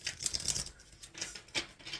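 Tarot cards being shuffled, a rapid papery riffling with bursts of flicking and light slapping, fairly close and alone with no talk.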